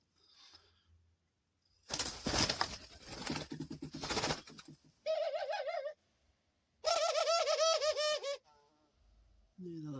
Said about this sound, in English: I'm so happy that I got these little birds.